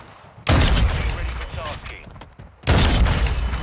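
Two heavy sniper rifle shots from the Modern Warfare II game, loud and booming, roughly two seconds apart, each with a long rumbling tail and mechanical rechambering between them.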